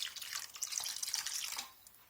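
Chicken broth pours into a paella pan, a light continuous splashing trickle of liquid for about two seconds that fades out at the end.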